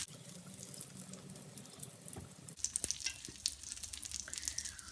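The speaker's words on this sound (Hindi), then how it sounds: "हम इसे एक तरफ से फ्राई करेंगे अच्छा सा कि गोल्डन हो जाए" Fish fries on a tawa griddle in soft, quiet sizzling that turns crackly and spattery halfway through, with faint pops and a light background hiss.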